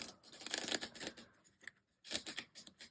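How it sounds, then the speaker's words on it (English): Corner shuffling of a Marseille-inspired tarot deck: two bursts of crisp, papery riffling and snapping, close and fairly loud, separated by a short pause, with no voice. "I do corner shuffling personally"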